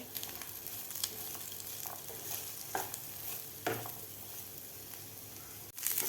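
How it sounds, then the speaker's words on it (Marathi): Onion, garlic and ginger frying in a pan for paneer masala, a soft continuous sizzle broken by repeated scraping stirs of a spatula, close but fairly quiet, with no speech. "हे सुद्धा आपल्याला कांद्याबरोबर एक मिनिटभर भाजून घ्यायचं आहे"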